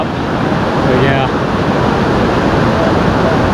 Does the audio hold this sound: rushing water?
yes